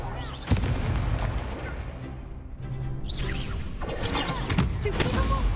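An Expulso explosion spell goes off in the Hogwarts Legacy video game, a loud boom followed by blasting, crashing impacts and rumbling debris in a magical duel, with voices around.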